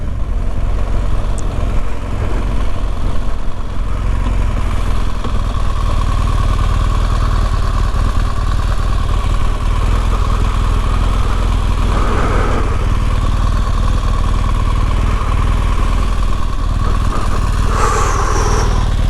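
BMW R1200GS motorcycle ridden on a road from Pateley Bridge to Bolton Abbey, its engine a steady, loud, continuous drone with wind roar throughout and a brief burst of higher noise near the end.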